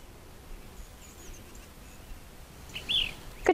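An ash-throated flycatcher calls briefly twice near the end, a short burst and then a sharper note, faint and moderately distant over quiet outdoor background with a light insect hum.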